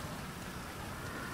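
Rain falling in the video game Grand Theft Auto V, a steady dense hiss of downpour without pauses, moderately loud and continuous.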